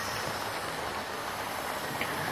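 A model locomotive, a Dean Single hauling its train around the track, gives a steady, close, continuous rumble and broadband wheel rush with no clear beats, no voices.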